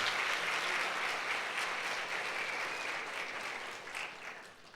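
A church congregation at a Sunday service claps in strong, continuous applause, a dense even wash of hand claps that holds steady for several seconds and then gradually fades toward the end.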